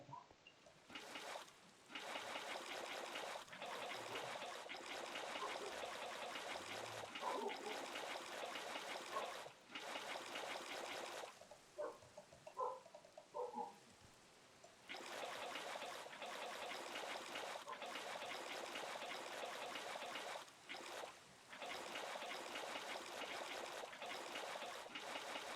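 Water trickles steadily into a small 3x3 cistern pool in Minecraft, a faint continuous splashing stream that runs on with short gaps and one brief pause midway.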